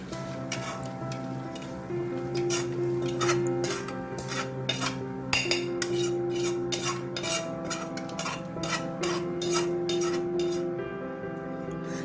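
A metal spoon scrapes and taps roasted coconut powder from a pan onto a separate plate, producing a steady series of close clinks and ticks over a faint background hum.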